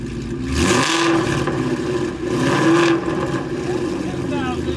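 A 2018 Mustang GT V8 with a full Corsa exhaust revs loudly and close by. Two long, swelling rev pulls rise over a deep, steady rumble.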